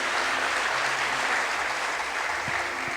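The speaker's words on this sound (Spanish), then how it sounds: "Dale un aplauso al Rey de Reyes y Señor de Señores." Church congregation applause fills the room as a dense, continuous wash of many hands clapping at once, evenly loud throughout, with a faint low hum underneath.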